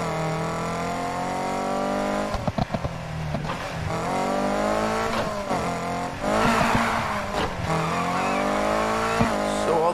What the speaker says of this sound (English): Let's just get this car to the start line in one piece.